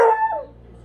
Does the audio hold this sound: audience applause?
no